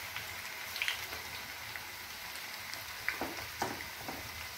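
Ragi and onion pakoda deep frying in hot oil, a quiet, even crackle with a few sharper pops and splutters, close by and fairly faint.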